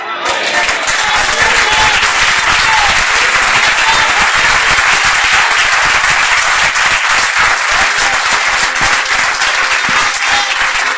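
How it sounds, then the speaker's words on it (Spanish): A church congregation applauds loudly and continuously, a dense roar of many clapping hands that holds steady at close range throughout. "¿Le dan un aplauso a él?"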